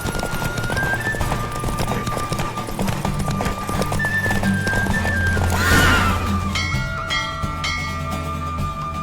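In The Witcher 3, a horse gallops with rapid rhythmic hoofbeats and lets out neighs, set against game music and ambience, with a surge of rushing noise partway through.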